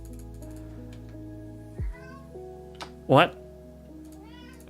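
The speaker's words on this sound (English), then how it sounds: "Cat's hungry." A hungry house cat gives one clear, close meow over a steady electronic background, and a person briefly speaks nearby.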